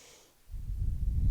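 A single deep breath in during a prenatal core exercise, soft and close, swelling from quiet into a steady, breathy low rush over about a second.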